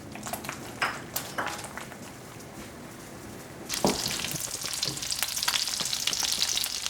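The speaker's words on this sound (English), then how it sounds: "A little bit of melted butter. Give them a little toss." Pierogies tossed in melted butter in a pan give a light frying sizzle with scattered clinks at first, then a louder, denser hiss of sizzling butter takes over for the rest.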